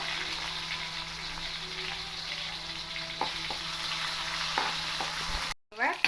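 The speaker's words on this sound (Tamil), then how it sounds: "சேர்த்து நல்லா கிண்டி விடுங்க." Chillies and half a tomato fry in a pan for thulasi rasam, a steady broadband sizzle with several spoon-scrape stirring strokes, then a brief dropout near the end.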